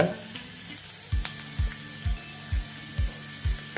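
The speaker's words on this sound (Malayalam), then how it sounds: "അടുത്തായിട്ട് ചൂടായ എണ്ണയിലേക്ക് നമ്മൾ നമ്മുടെ ചെറിയ ചെറിയ കഷ്ണങ്ങളൊക്കെ ഇഞ്ചി ആഡ് ചെയ്യാണ് കൂട്ടത്തിൽ നമ്മുടെ വെളുത്തുള്ളി" Small pieces of ginger and garlic fry in hot oil over a medium flame for gobi manchurian, a soft continuous sizzle punctuated by a regular series of low stirring knocks about twice a second, near and without speech.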